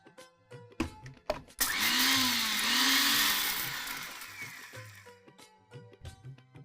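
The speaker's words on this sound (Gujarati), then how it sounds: "હવે ક્રશ કરી લઈશું." A kitchen mixer grinder coarse-crushes turmeric, red chili powder and roasted cumin on a TV cooking show. It gives a loud, whirring burst of about three and a half seconds, framed by clicks and knocks from handling the jar.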